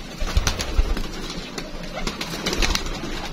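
Pigeons cooing on a rooftop loft where a flock of around a hundred birds is kept, soft repeated coos overlapping with faint rustling and a few wing flutters, close and moderately loud.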